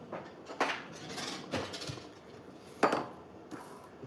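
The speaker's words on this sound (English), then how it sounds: "let me grab a ladle" Kitchen utensils clink and clatter as a ladle is grabbed from among them: a few scattered metallic knocks and rattles, close and fairly quiet, with one sharper clank.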